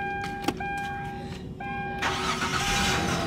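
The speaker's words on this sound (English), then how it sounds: "as you can see, we are going to start this car." A car engine cranks with a steady electric whine and brief clicks, then catches at about two seconds and settles into a louder, broadband running roar, close to the microphone; the car has a drive-by-wire throttle body with an idle speed fault.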